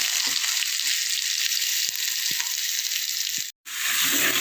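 Crushed onions and curry leaves frying in a hot pan, a loud steady sizzle filling the clip, with a few faint knocks of stirring and a brief dropout near the end.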